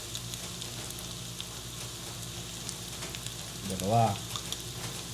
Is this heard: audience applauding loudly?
no